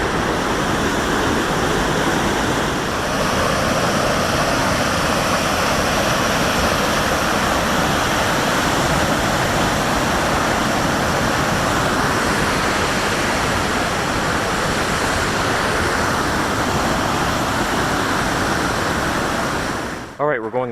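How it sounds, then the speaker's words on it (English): Tiltil Creek pours down a mountainside into Hetch Hetchy in Yosemite, a loud, continuous broadband roar of rushing whitewater that holds steady and close for the whole stretch before cutting off abruptly at the end. "This is where Tiltil Creek comes down the mountain and drains into Hetch Hetchy."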